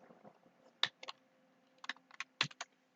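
Bursts of clicks on a computer keyboard as Python code is typed, a few clustered keystrokes separated by short pauses, close and fairly quiet with no talking.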